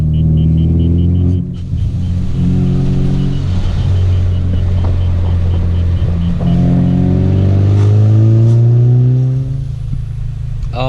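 Ford Focus RS engine revving while driving, with a steady loud drone that climbs and drops through gear changes and blips, heard from inside the car with no talking.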